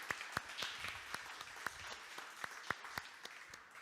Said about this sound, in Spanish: Yo te voy a pedir que tú te des un aplauso tú mismo por venir aquí hoy.